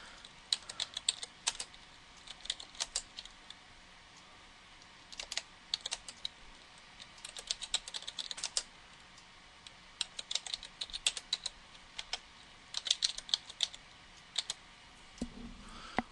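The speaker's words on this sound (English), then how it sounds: "let's just go ahead and start typing" Computer keyboard typing in bursts of quick, light clicks, steady and close, with short pauses between runs and no one talking.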